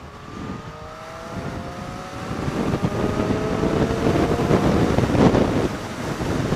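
A 2014 Triumph Street Triple R motorcycle with a Scorpion exhaust riding along a road, its engine note climbing steadily and growing louder under heavy wind rush.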